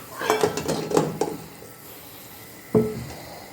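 Eggs go into a pot of boiling water: a quick cluster of hard clinks and knocks against the pot, then a pause, then one more sharp clink, close and fairly quiet.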